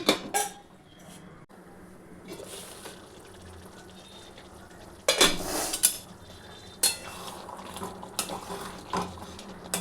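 A metal lid is set onto a cooking pot of ridge gourd, potato and poppy seed curry in a home kitchen, with sharp clanks and clattering amid softer kitchen handling noises.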